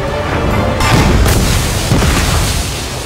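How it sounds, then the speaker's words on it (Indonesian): A loud, deep boom blasts out and rumbles on, heavy and close, like a cannon shot rolling into a lingering roar. "Hingga meriam itu meledak"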